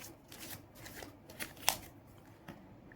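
Cards are drawn and shuffled from a deck, with soft, quiet papery riffles and flicks and one sharper snap, close up and without speech.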